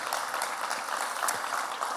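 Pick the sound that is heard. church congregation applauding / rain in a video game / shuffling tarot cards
church congregation applauding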